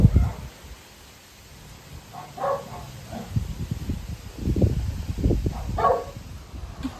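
Dogs bark from a distance outdoors in several short, muffled bursts and yips scattered irregularly, faint against a quiet garden background.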